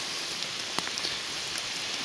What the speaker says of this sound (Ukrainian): Теплий дощ